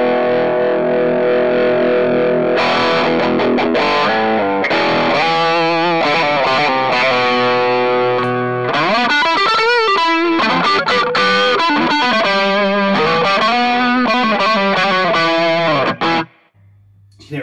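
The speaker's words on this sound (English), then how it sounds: "You can hear it starts to add a bit more kind of distortion to it." Electric guitar played through a germanium Rangemaster treble booster with the gain rolled up, bright and gritty with rising distortion, sustained chords and runs ringing out loud and alone before cutting off near the end.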